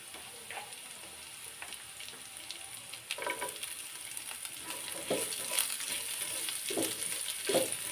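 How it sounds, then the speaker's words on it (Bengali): Chopped onions fry in oil with garlic in a pan, a soft, fairly quiet sizzle that grows denser over time, with several light clicking stirs of a spatula. "পেঁয়াজ কুচিটাও একটু তেলে ভাজি করে নেব"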